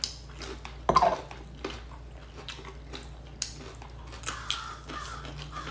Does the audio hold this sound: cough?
no